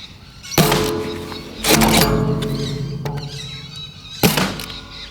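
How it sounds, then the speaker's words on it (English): Three sharp thunks from a Guardian Lynx metal bullpup Nerf sniper blaster firing on trigger pulls, each loud snap followed by a ringing metallic decay, spaced about a second or two apart. "Here's a couple of trigger pulls uninterrupted."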